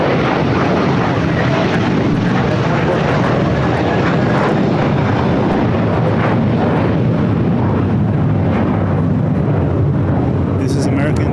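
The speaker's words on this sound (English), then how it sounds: "This is American 1024 going to Orlando on a 10-year-old Airbus A321." An American Airlines Airbus A321, about ten years old, on its way to Orlando at LAX, gives a loud, continuous jet-engine roar that holds strong throughout.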